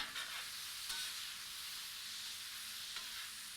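Onions and mushrooms cooking in a pan, with most of the mushroom liquid cooked off, give a soft, steady sizzle and hiss throughout, with faint stirring and no voices.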